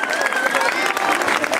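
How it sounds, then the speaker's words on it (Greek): Crowd applause at an outdoor Christmas tree lighting in Naxos, a lively clatter of many hands with some cheering mixed in, while a voice carries over the top and faint tonal sounds ring through. "Δώστε ένα θερμό χειροκρότημα."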